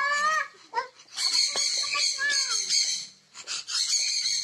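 Bird calls chirp and warble in quick bursts through most of the clip, fairly close, with short gaps between the phrases.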